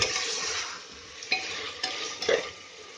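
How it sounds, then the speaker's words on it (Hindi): Mutton being fried and stirred in a pan for rara mutton, with a steady sizzle and several sharp clinks of a spoon against the pan, fairly close and without talk. "मटन को पहले भून लेते हैं।"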